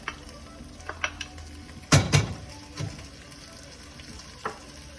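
Half a can of diced tomatoes tipped into a hot pot for chicken tortilla soup, a sudden loud splash and burst of sizzling midway, framed by scattered utensil taps and light stirring noises nearby.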